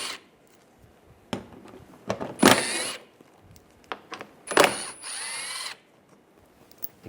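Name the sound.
8mm socket wrench removing shield bolts on Mercedes E350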